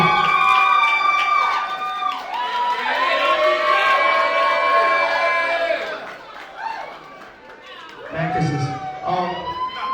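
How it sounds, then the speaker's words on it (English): A crowd at the Sankofa Haus soft-launch party roars with loud cheering, whoops and shrill shouts, apparently with clapping, sustained for several seconds before it dips, then surges again near the end. "Clap your hands and make some noise for Beverly"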